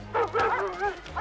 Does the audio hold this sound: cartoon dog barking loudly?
yes